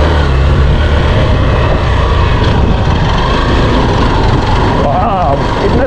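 A Hero Xpulse 200cc motorcycle riding off-road on a trail near Gurgaon, a steady loud engine drone mixed with heavy wind rush throughout, with a rider's voice faintly over it.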